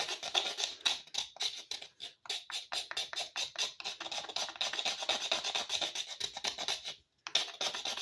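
Hard steel knife edge scraped side to side across a sharpening surface, a steady rasping rhythm of quick close strokes, loud and continuous with one short pause near the end.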